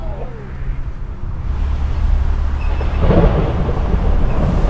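Heavy thunder rumbles close by from lightning strikes during a violent tornadic storm, a loud continuous low roar that swells again near the end, heard from inside a car with rain noise.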